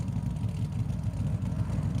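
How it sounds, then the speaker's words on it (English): A Mercedes AMG GT3 race car's 6.3 litre V8 idles at the Nurburgring, a steady, rough low rumble with a lumpy pulsing beat, fairly close and continuous with no talk. "Let's just listen as well to the idle noise of a Mercedes in the wild."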